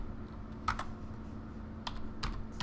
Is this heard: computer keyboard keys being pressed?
yes